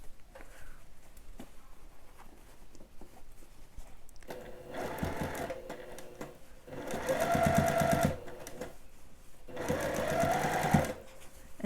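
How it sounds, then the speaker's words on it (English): A sewing machine bastes ruffles onto a dress bodice at a quarter-inch seam, stitching over pins in two loud, steady runs separated by pauses, with softer handling noise before them. "I'm sewing over my pins"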